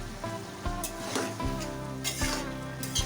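Winter vegetables and puti fish curry are stirred in a pan: a steady sizzle with spoon scrapes and clanks against the metal, close and fairly loud, with no voices.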